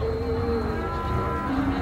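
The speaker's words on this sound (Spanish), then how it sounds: "Ahí están todas estas vacas," Dairy cows from San Carlos, Morazán moo in long, low, drawn-out calls, one after another, close and loud against a dense herd background with no talk.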